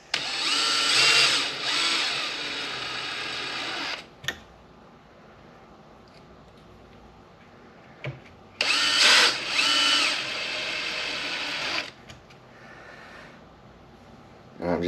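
Power drill spinning out three screws from the servo on a Traxxas X-Maxx 8S RC truck: two loud, steady whirring bursts separated by a quiet pause, with faint handling noise between.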